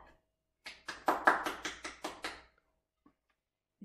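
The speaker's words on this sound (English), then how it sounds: "Give yourselves a clap." A small group claps for a few seconds in a quick, steady run of sharp, close hand claps that stops abruptly, followed by near silence.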